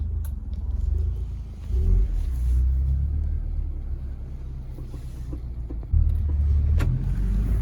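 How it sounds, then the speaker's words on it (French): Peugeot 208 GTI engine heard from inside the car with a window open: a steady low rumble that surges at about 2 s and again near 6 s as the car accelerates, with wind noise and no talking. "On va ouvrir la fenêtre pour entendre le son rock du moteur."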